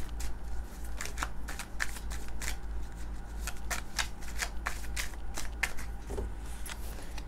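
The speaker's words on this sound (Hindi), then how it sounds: "मुझे कुछ कार्ड्स और लेने हैं।" Tarot cards shuffled and drawn by hand at close range, a steady run of crisp riffling flicks and slaps in an irregular rhythm, with no talking.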